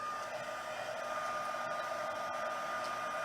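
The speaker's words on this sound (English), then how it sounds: "So I'm using my heat tool" A heat tool blows a steady, loud whooshing roar of hot air onto embossing glue for gilded leafing, running continuously alone without any talk.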